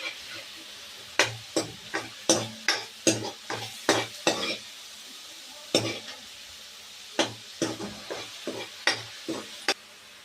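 Chopped green chillies frying in a pan with cumin seeds, stirred by a spoon in a run of sharp, rhythmic scrapes and clinks about every half second, pausing briefly mid-way, over a quiet sizzle.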